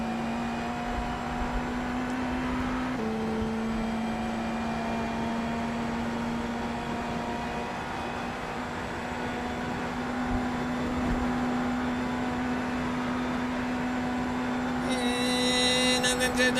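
A race car engine in the RaceRoom racing video game holds a steady, high, whining drone, with a brief dip in pitch early on and a harsher edge near the end.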